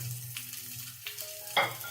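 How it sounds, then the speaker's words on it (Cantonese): Prawn heads sizzle in a hot wok over medium heat, a steady frying hiss with a few scraping stirs and a brief clatter near the end. "我哋慢慢煎到佢有色"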